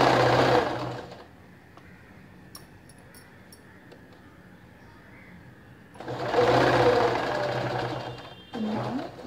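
A sewing machine stitches piping around a kurti neckline in short bursts: a quick run, a long quiet pause, then a longer run and one more brief burst, all close by.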